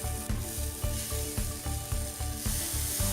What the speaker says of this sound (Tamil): இதை 1 நிமிஷம் வதக்கிக்கலாம்.